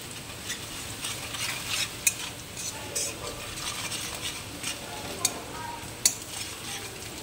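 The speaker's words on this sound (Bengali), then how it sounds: "ভালো করে লাল লাল ভেজে নিলাম" Onions and spices fry and are stirred in a pan for a Bengali-style rita fish curry cooked like meat. A steady sizzle runs throughout, with scraping stirs and a few sharp clinks of a utensil against the pan.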